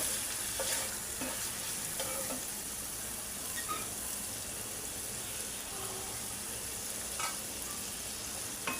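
Onion and green chilli sizzle steadily in oil with ginger and garlic for chilli chicken, close and continuous, with occasional stirring scrapes and no talking.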